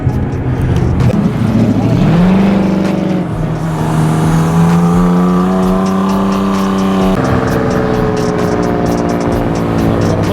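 A BMW M4, a Mercedes ML AMG and a 10-speed Mustang street race, with loud, close engine roar rising in pitch through gear shifts and a sustained high drone, under faint voices.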